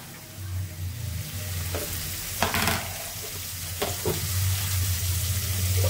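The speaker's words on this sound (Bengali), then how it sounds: "পেঁয়াজটা একটু লাল লাল করে ভেজে নিচ্ছি" Onion frying in oil with a green chili for a vegetable curry: a bright, steady sizzle close by, broken by a few sharp stirring scrapes, with a low rumble underneath and no talking.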